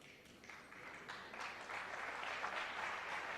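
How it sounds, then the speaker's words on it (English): A knowledgeable snooker crowd at a Reyes versus Davis final gives steady, fairly quiet applause, the clapping building slightly and holding even. "Knowledgeable crowd here, appreciating Davis's attempt."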